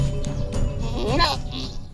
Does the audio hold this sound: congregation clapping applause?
no